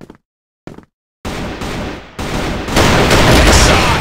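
Video game gunfire erupts after a brief quiet stretch, turning into a dense, continuous barrage of loud shots that grows heavier toward the end.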